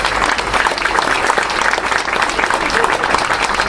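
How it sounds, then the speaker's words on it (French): Loud, dense applause from the audience at an anniversary celebration in a reception hall, continuous and sustained throughout without a break. "je voudrais qu'on les applaudisse dès"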